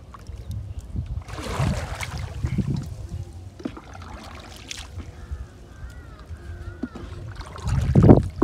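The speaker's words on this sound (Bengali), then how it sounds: "নৌকা চালাতে সত্যিই ভীষণ কষ্টের ব্যাপার" A rowboat moves across calm water near Raghunathpur, Bongaon, with soft, irregular oar splashes and gurgles that come close, then a louder, fuller splash near the end.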